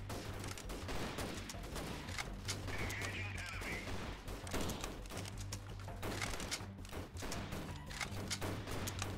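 Gunfire in the video game Freeman: Guerrilla Warfare, in inclement weather; dense, continuous distant rifle and machine-gun fire crackles throughout under a steady rumble of rain and wind.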